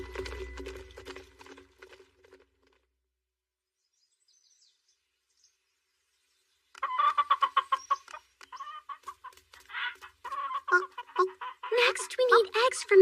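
A flock of young chickens clucks and chatters nearby in an anime scene, a dense run of rapid bird calls after a pause, with brief talk at the start.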